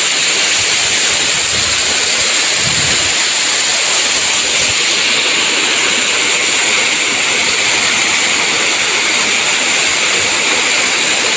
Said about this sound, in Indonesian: Seperti ini suasana keindahan air terjun Setawing yang ada di Jatimulyo, Kulon Progo.